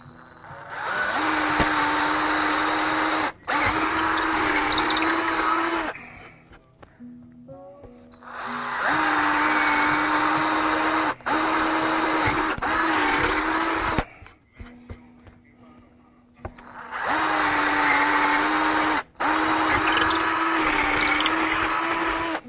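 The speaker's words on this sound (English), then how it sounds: "So ream it out a little bit." A power drill reams out a hole in a cigar box guitar build, running in three long whirring bursts with short pauses between, loud and close with no talking.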